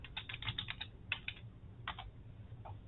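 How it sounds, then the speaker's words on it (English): Keys tapped on a computer keyboard in short quick bursts, a cluster of rapid clicks followed by a few sparse ones, close and quiet, with no talking. "I'm going to type in blood transfusion,"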